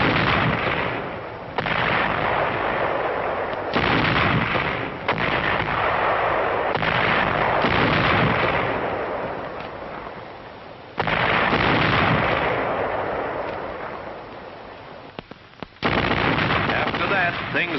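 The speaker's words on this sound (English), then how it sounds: "when a high-trajectory artillery duel was on" Artillery fires in a wartime battle in a sequence of heavy booming blasts with rolling decay, several loud reports arriving every few seconds, with a narration voice in places.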